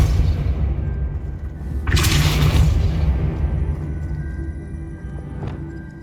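Depulso spell cast in Hogwarts Legacy sounds as a sudden whooshing burst over a low rumbling game ambience, flaring for about a second before fading into the background hum.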